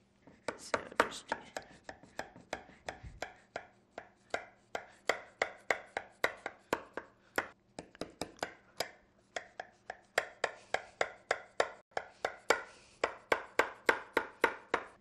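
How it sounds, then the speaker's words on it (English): A knife cuts through layers of baklava phyllo, marking diamonds in a long run of crisp, rhythmic crunching strokes, close and fairly quiet, with no voices. "Before we put the baklava in the oven, we cut it because the phyllo gets very, very cracked easily after it's been put in the oven"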